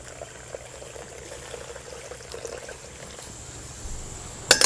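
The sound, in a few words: rinsing blanched noodles with plain water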